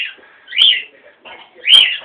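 A pet cockatiel chirping at its own reflection in a mirror, two loud sharp whistled calls with softer chatter in between, close to the listener and without talk.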